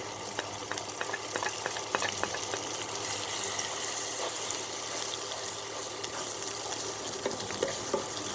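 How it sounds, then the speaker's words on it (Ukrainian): Grated carrot and onion frying in heated oil, a dense, steady sizzle with crackling pops throughout, close and continuous with no talk. "І вкидаю моркву в розігріту олійку. Сюди додаємо цибульку."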